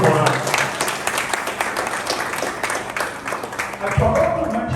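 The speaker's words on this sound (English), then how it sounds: "I think a small round of applause again will help the whole world." A hall audience at a hospital fellowship gathering breaks into applause after a speech, with scattered clapping rising and falling over several seconds and talk mixed in beneath it.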